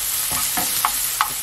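Minced garlic and sliced green onion hitting hot cooking oil in a pan for spicy tofu duruchigi, a loud close sizzle with a few quick stirring scrapes and pops.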